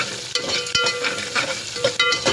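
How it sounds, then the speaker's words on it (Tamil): Onion, dried chillies and garlic sautéing in a pan for beetroot poriyal, with a close, steady sizzle and a few quick scraping stirs against the pan, no voices. "நல்லா வதக்கி விட்டுங்க"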